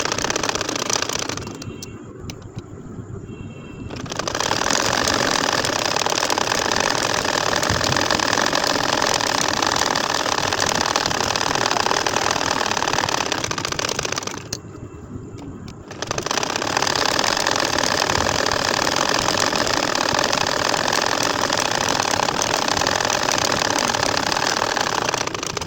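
A sewing machine stitches a baby kantha quilt in steady, loud runs, pausing briefly twice before whirring on again, with no talk over it.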